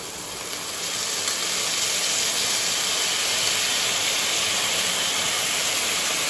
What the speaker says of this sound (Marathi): सर्वात आधी सोया सॉस घालून घेऊया।